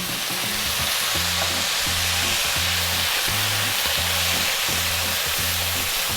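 Light soy sauce poured into cabbage fried rice in a hot pan sets off a loud, steady sizzle and crackle, with a faint rhythmic scraping of stirring underneath; no talking.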